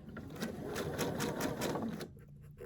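A sewing machine stitches quilt strips, running in a steady rapid whir for about two seconds before stopping abruptly, close and clear with no voices.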